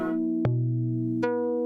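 Modular synthesizer patch with a precision adder shifting the control voltage, a sustained buzzy drone that jumps in pitch twice with sharp clicks at each change.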